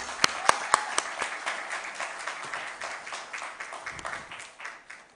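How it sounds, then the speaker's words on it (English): Applause from an audience at a stock exchange listing ceremony for Unihealth Consultancy Limited, a steady crowd of clapping hands with a few sharp louder claps near the start, over faint voices. "A round of applause for the company,"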